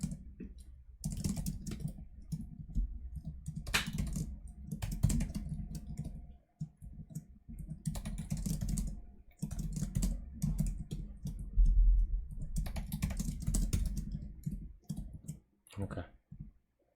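Steady clicking of computer keyboard keys while typing code for a LeetCode problem, coming in close, busy bursts separated by short pauses, with a voice talking over parts of it.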